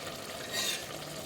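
A pot of mixed vegetables with thick yogurt bubbling and being stirred for vegetable biryani, a soft steady simmer heard up close with no voices.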